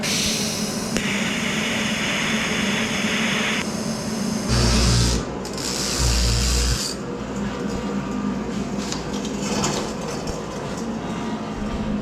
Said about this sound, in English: So I'm gonna tack this one on and then start grinding the rest of them.